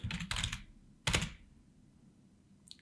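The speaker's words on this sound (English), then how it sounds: "Then here you can type any type of content." Keys on a computer keyboard are struck in two quick bursts of clustered clicks, a pause between them, then a faint final tap, close and with no talking.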